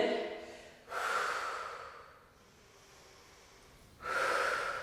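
Two distinct inhalations during a Pilates exercise at home, separated by a quiet exhale, each a breathy, airy rush close to the microphone with nothing else heard.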